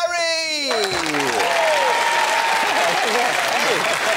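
Studio audience applause on a TV game show, dense sustained clapping from a crowd, with a brief musical sting at the start and voices partly mixed in.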